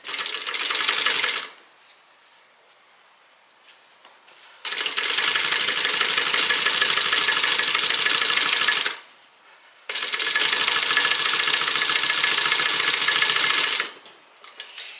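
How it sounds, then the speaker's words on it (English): A sewing machine top stitches a seam on a leather bag in two long, steady bursts of rapid, close mechanical stitching, with short pauses between them. "Let's go ahead and top stitch this side, or this seam down."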